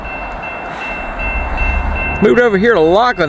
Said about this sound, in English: Finally got a train coming, Norfolk Southern.